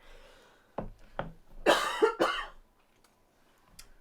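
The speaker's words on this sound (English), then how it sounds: "I'm trying so hard not to cough." A few close coughs: two short ones, then a louder double cough, followed by a faint final one, with quiet gaps between.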